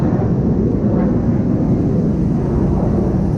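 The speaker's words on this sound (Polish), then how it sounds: "Że tak słychać samoloty z lotniska ale latają wojskowe M16 czy jakoś tak? F-16 i tak sobie krążą nad nami" Military F-16 jets circle overhead near an airport in Singapore, giving a steady, loud, broadband roar that stays constant throughout with no voices.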